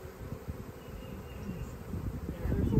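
Honeybees in a crowded hive make a steady, close, low buzzing drone that swells louder toward the end.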